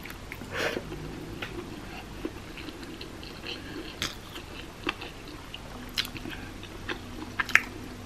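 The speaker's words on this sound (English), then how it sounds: "I'm gonna go ahead and start eating cause I'm super hungry" Nepali chow mein being eaten at close range, with soft repeated biting and chewing sounds and small crunches spread across the span, fairly quiet with no talking.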